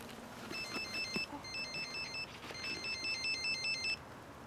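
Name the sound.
telephone ringing during an outgoing call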